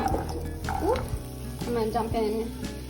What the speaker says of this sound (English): I have some oil getting nice and hot. I'm gonna dump in